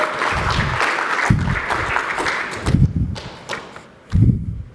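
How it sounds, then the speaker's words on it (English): A conference audience applauds a lightning-talk speaker, a burst of clapping that thins and fades out, followed by a few thumps and a voice starting to speak. "so give a round of applause"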